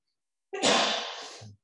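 A single sharp, breathy sneeze bursts out close by, loud at first and trailing off in about a second.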